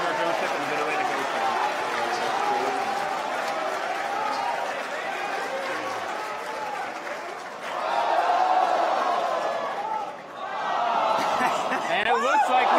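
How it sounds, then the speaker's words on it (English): A SpaceX team in a control room cheers and applauds as a Falcon rocket booster lands on a drone ship in the Atlantic, a sustained crowd roar that swells louder near the end, with a voice talking over it. "you're hearing every cheer right now because we're coming into the drone ship"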